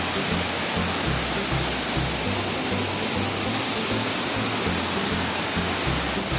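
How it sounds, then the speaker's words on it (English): Elephant Falls in Shillong produces a loud, continuous roar of falling water, heard close with a steady, dense rush and a faint low pulsing underneath. "This is the famous Elephant Falls of Shillong."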